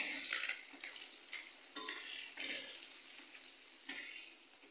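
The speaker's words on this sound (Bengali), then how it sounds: "মাছটা ভাজা ভাজা হয়ে গেছে, এখন হলুদ দিয়ে দেবো," Fish frying in a pan with turmeric is stirred, giving a steady bright sizzle broken by several sharp scraping strokes of the spatula, up close with no talking.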